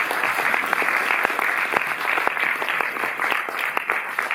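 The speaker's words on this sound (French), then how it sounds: "vous pouvez déjà l'applaudir" An audience in a Paris cinema claps for a guest before a post-screening discussion, dense sustained applause from a large crowd filling the room evenly throughout.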